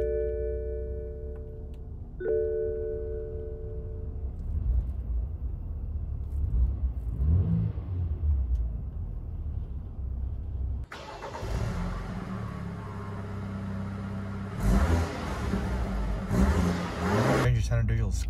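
A 2016 BMW 528i xDrive engine cranks and fires, then settles into a steady low idle heard close by, with a brief rev partway through.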